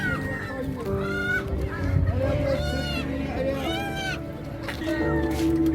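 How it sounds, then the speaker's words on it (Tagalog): Hens cluck and squawk in a busy market, with chickens calling repeatedly over steady background chatter and a low hum. "may bibinta dito na mga inahing manok"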